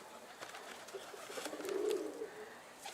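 A red Bursa pigeon coos softly, a low brief call rising near the middle against faint outdoor background.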